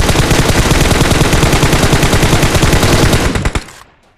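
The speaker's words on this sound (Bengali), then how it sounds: "একবার ফায়ার দে" Rapid automatic gunfire in a shooting video game, a loud continuous burst of dense shots that stops abruptly near the end, with no talking.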